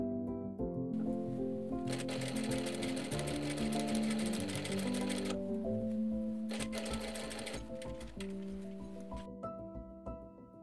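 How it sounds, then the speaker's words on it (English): Sewing machine stitching darts on front and back bodice pieces, with backstitching at the start. Long runs of a steady, close, whirring mechanical drone, broken by short pauses, with tonal motor whine throughout. "I'm stitching the darts, backstitching only at the beginning."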